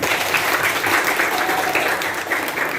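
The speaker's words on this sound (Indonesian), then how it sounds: "tepuk tangan untuk kalian semua" A classroom group claps together in sustained, dense applause, loud and close, with no clear talk over it.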